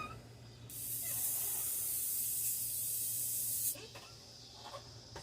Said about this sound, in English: We'll clean out this airbrush.